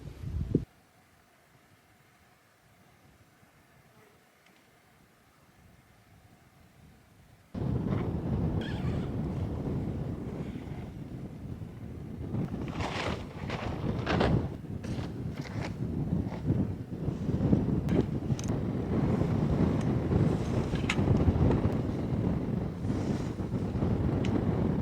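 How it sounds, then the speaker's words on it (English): Strong, steady wind roars into the microphone on desert sand dunes after a brief quiet stretch, with rumbling gusts and buffeting that swell and persist throughout. "where I'm standing right here is actually pretty windy."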